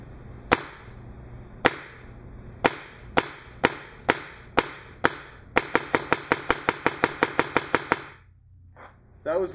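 Ego/Etek paintball marker fitted with a TechT Hush Bolt, heard from the front: sharp, close pops, first spaced single shots, then a rapid even string of about a dozen, before fading to quiet.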